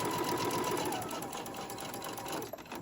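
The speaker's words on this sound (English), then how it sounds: "So I'm going to sew it all the way to the end." A sewing machine stitching a fabric ruffle for a tote bag runs steadily and close, a continuous whirring drone with a fast mechanical needle rhythm, unbroken for the whole stretch.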